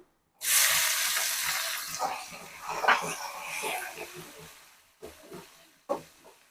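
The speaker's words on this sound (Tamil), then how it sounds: "அடுத்து வந்து நம்ம தக்காளி ஆட் பண்ணிக்கலாம்." Chopped tomatoes hitting a hot pan of softened onions for mango and drumstick sambar, a strong sizzle that settles into steady frying with a couple of stirring clatters, close by.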